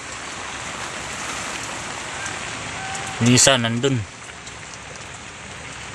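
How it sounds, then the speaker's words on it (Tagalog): Heavy rain pours steadily as a dense, constant hiss while out fishing for tilapia; someone speaks briefly partway through over the downpour. "Grabe, hindi pa rin tumigil yung ulan."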